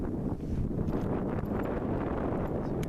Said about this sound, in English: we got some wind coming up from behind us here